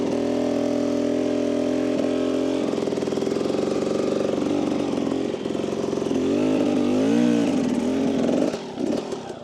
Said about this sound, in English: weighting the outside foot peg, slow on the gas, low rev so we're not spinning